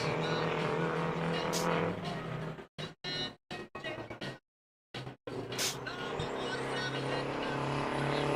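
A race car laps a super oval track during qualifying, its engine roaring loud and steady, dropping out in short gaps midway, then surging back as it comes around, with a commentator talking over it.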